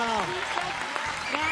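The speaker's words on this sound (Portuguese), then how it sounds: "Vamos aplaudir, ó, que maravilha!" A television studio audience claps during a comedy show segment about a smart car whose horn breaks a glass, brief steady applause under an excited voice and a rising tonal sound.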